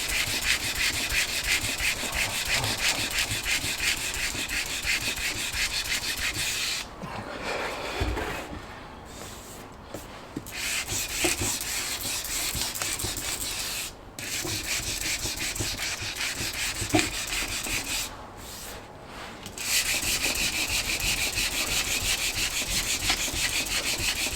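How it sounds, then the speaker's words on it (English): Steady, continuous abrasive rubbing of a sanding block on a whitewall tyre of a classic Fiat 500, with a few brief pauses between strokes, close and fairly loud. "it's easier to use a sanding block when the tyre is flat on to a surface like this"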